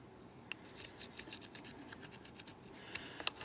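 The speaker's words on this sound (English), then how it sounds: "Burnishing means I'm rubbing it. I'm making these little edges smooth." A burnisher rubbing along the edges of stained glass pieces to smooth them, making soft, quiet scraping strokes in an irregular rhythm with a few sharper clicks near the end.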